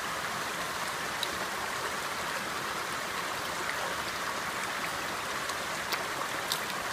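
A stream flowing outdoors, a steady broadband rush and trickle of water that holds constant throughout, close and moderately loud with faint droplet splashes on top.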